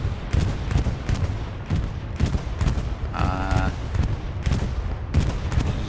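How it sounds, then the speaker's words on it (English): Bombing run explosions rumble through a Hell Let Loose battlefield, heavy low booms rolling one after another amid steady distant gunfire, with a whistling tone briefly rising in the middle; loud and continuous, no talk. "So we see a bombing run coming out."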